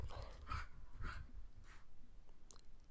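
A small dog playing with a ball gives a few soft, brief whimpering noises in bursts close by, with breathing between them and no talking.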